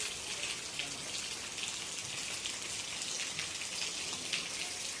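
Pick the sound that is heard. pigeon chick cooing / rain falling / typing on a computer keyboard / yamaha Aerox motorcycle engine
rain falling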